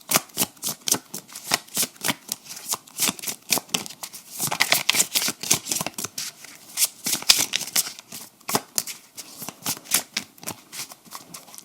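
Tarot cards being shuffled by hand during a card reading: a steady run of close, crisp papery slaps and riffles repeating for several seconds, with no other sound.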